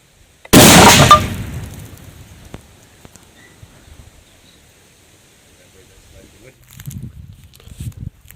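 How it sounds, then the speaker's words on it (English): An old detonator blasting cap fires outdoors under a cover in a single loud, sharp blast, and the noise dies away over a second or two. Soft shuffling and handling noises follow. "You can see why detonators are not something you want going off right next to you."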